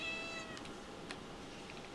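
A cat meows in the Rimworld video game, a short faint game-sound cry rising briefly over a steady low background hum, with a few soft clicks afterward.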